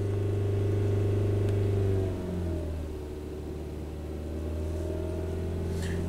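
The engine of a 2017 Ford Transit with a crank no-start fault, held at raised RPM: a steady, close idle-rumble that eases down slightly after a couple of seconds and then drones on evenly.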